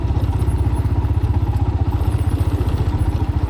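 A Royal Enfield Himalayan motorcycle rides over a bumpy road, its single-cylinder engine thumping in a fast, even pulse, loud and close, with clattering from the rough surface.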